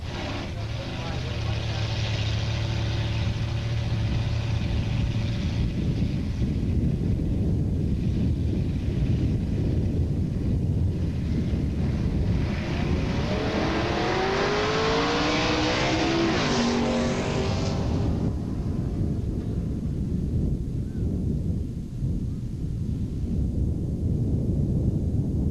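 Drag racing cars launch and roar down Edinburg International Dragway in 1986, a loud continuous engine blast that sweeps past and fades, with an announcer talking over it.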